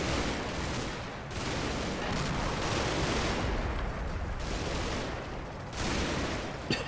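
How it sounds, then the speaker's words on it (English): Dense, continuous machine gun and rifle fire in a video game battle around a church, a steady loud wall of rapid shots and distant bursts with brief lulls, no voices. "So much machine gun fire going on now."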